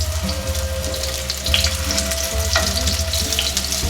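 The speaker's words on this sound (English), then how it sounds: "So I'm gonna fry all of them." Chicken kofta sizzle steadily in hot oil in a pan, a continuous close crackling frying sound with faint clinks, no voices.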